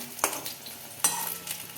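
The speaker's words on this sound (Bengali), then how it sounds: "এই যে এবার বেগুনগুলোকে ভাজা হচ্ছে" Eggplant pieces fry in a pan of oil for a pomfret fish curry with potato, giving a soft, quiet sizzle broken by two or three brief stirring or turning sounds.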